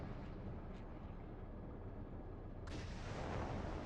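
In the DCS flight simulator game, a missile launches with a sustained, heavy roar under a steady low rumble, and a sharp, brighter blast cuts in near the end, with no talking.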